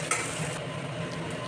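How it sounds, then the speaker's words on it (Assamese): Onions sizzle steadily in a pan as the base for a pork dry fry, a close, continuous crackling hiss with faint stirring and no talk. "আৰু এতিয়া পিঁয়াজখিনি ভালদৰে ৰঙচুৱা বৰণ ধৰালৈকে মই ভাজি ল'ম"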